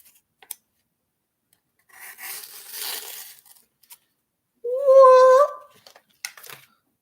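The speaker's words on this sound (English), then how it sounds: "Sharpening stone works." A blade is drawn across a sharpening stone in a few short, dry rasping strokes separated by pauses, close and fairly quiet.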